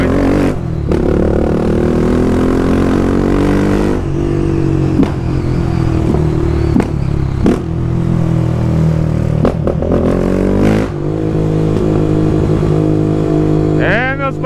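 Honda CB Twister 300F motorcycle running with no muffler and no air filter, a loud, raw engine drone with shifting revs held steady throughout, while someone talks over it.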